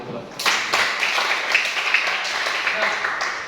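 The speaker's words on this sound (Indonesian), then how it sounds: "Tepuk tangan dulu." Applause from a classroom audience after a presentation, a burst of dense, close clapping that begins abruptly and holds steady for a few seconds before tapering slightly, with a voice speaking over it.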